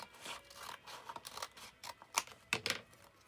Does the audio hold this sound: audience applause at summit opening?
no